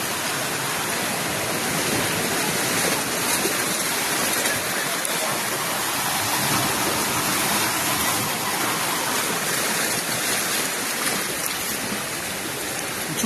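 Forceful water rushes at a South Goa beach, a dense, steady hiss of churning flow that stays even and fairly loud throughout, with no clear breaks.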